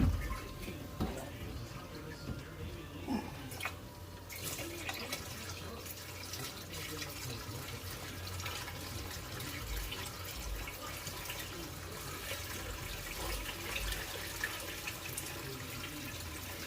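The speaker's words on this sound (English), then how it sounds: "I'm going to add water to it quickly." Continuous soft pouring and trickling of clean salt water into a reef aquarium sump, steady and close, with faint splashing and no talking.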